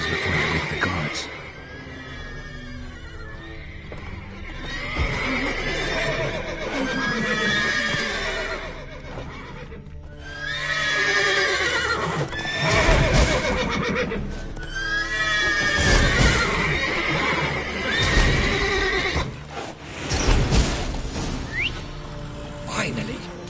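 Horses neigh and whinny repeatedly in The Witcher game soundscape, with hoofbeats clopping underneath and a voice speaking at times; loud and close.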